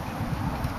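Steady wind buffeting a microphone, a low rumbling roar with gusty swells throughout and no other clear sounds.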